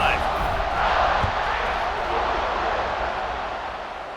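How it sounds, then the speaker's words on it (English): A dense stadium crowd roars and cheers throughout a college football video game between Georgia and Ohio State, a loud, steady wash of voices that swells slightly near the start before easing off. "this crowd is feeling themselves after that last drive"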